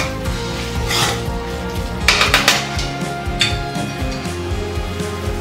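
A spoon stirs and scrapes through dry aloo gobhi in a metal pan, close, repeated clanks and scrapes, including a quick cluster of knocks midway, over a low steady hum.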